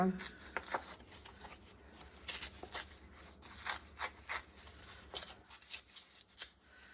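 Scissors cut decorative paper in a series of close, crisp snips and rustles while someone speaks French quietly over them.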